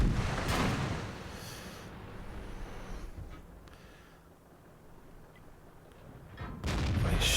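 T28 American tank destroyer cannon in World of Tanks, a heavy boom at the start and another as the clip ends, with a quieter battle rumble between them.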